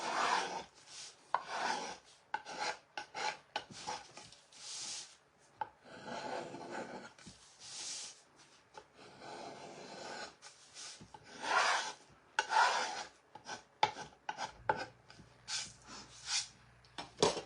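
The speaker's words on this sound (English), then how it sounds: "this is a paint scraper, and all I'm gonna do is come and I'm gonna scrape off that paint" A hand paint scraper rasps old paint off a surface in repeated short strokes, close and fairly quiet, with irregular pauses between passes.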